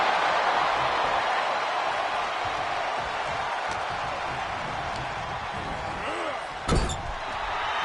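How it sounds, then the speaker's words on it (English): Shoulder tackle impact in the WWE 2K24 wrestling video game: one sharp thud near the end, over a constant arena crowd roar. "Shoulder tackle."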